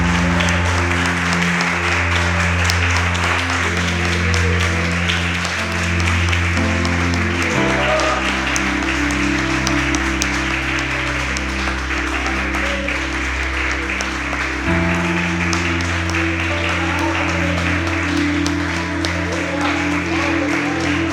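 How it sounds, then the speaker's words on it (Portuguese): A church congregation applauds in a loud, continuous wash of clapping for about twenty seconds, with sustained organ or keyboard chords playing underneath and changing twice. "Você pode aplaudir a Jesus Cristo,"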